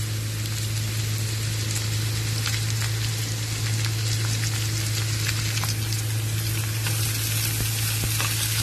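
Ridge gourd peels frying with browned onions in a pan give a dense, continuous sizzle with crackling pops throughout, steady and close over a low constant hum.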